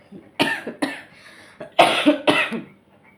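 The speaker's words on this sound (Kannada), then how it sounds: "ನೋಡಿ ಎಷ್ಟು ಕೆಮ್ಮು ಬರ್ತಾ ಇದೆ" Several harsh coughs in two close bursts, loud and near, with short pauses between them and no talking.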